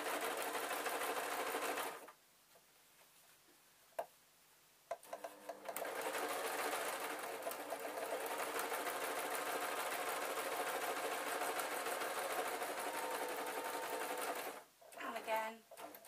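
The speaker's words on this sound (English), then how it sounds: "And then I'm doing a bit more sewing." A home sewing machine stitches a fabric storage box in loud sustained runs, pausing twice with brief clicks and a short burst near the end.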